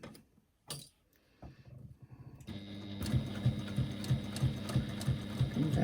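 A sewing machine stitches a press bag at a quarter-inch seam, starting with a few soft starts and stops, then running into a steady, rhythmic mechanical clatter with regular needle thumps.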